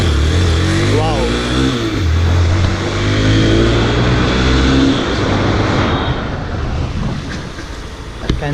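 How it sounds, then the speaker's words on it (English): A Hero XPulse 200T motorcycle accelerates hard, its engine a steady loud roar with rising pitch sweeps, heavy wind noise throughout, and someone talking over it. "You can see the acceleration power is intense."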